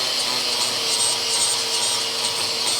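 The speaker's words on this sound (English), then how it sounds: "What I'm trying to do with the flapper wheel is get this to all be one concurrent thing" A flap wheel grinds a welded car trunk floor in a crew cab Charger restoration, giving a steady, loud, harsh abrasive hiss that goes on without pause and without talk.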